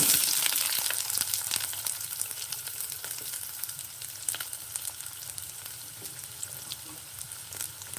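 Chopped onions sizzle steadily in hot oil in a pan while fish curry is being made, a dense, continuous frying hiss heard close up with no voices over it.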